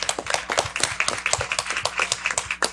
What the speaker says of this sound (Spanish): Un aplauso para nuestro director